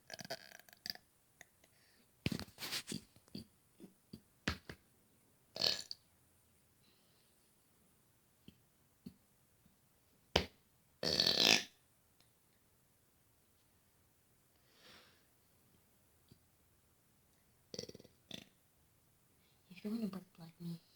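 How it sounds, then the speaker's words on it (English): A young girl makes loud burps in scattered bursts, some long and rasping, separated by quiet pauses, with breathing and talk heard between them. "Earlier I was doing really loud burps before I did this video."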